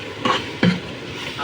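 Tomatoes with chili powder cooking in oil in a pan, stirred with a utensil: two brief scraping clinks over a soft, steady sizzle, close and fairly loud.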